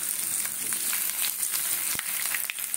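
Chicken pieces sizzle and fry in hot oil in a home kitchen, a steady close crackle with scattered pops and no talking.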